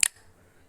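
A single crisp click from the default camera shutter sound on an Android phone, short and fairly loud, fading quickly into near silence.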